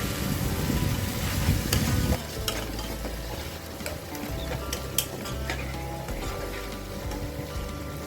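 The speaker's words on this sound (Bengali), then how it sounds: "এবার এই পেস্টটা আমি কড়াইতে ঢেলে দিচ্ছি" A ginger, chilli and tomato paste for a banana flower and prawn dish hits a hot wok, giving a steady close sizzle with occasional scraping stirs and light clinks of utensil against metal, no voices.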